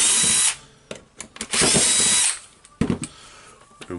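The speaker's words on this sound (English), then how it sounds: "I need to unscrew the two screws here" Screws being backed out of a Makita HR2811FT rotary hammer during a repair, heard as a few short, loud, close whirring bursts of a powered driver with quiet gaps between them.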